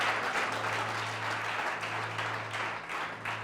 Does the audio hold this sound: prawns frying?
no